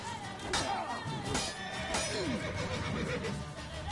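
A horse in The Witcher III: Wild Hunt whinnies in several rising and falling neighs over dense game noise, with clinks and sharp crashes mixed in.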